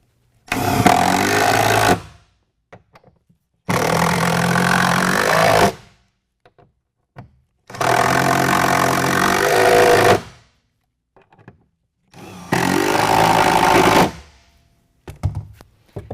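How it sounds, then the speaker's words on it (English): An impact driver tightens bolts on a 2017 Ford F-250 truck bed during a bed liner install, firing in four loud rattling bursts of about two seconds each, separated by quiet pauses with faint clicks. "If you're using an impact driver, make sure you push all the way in so you don't strip anything out."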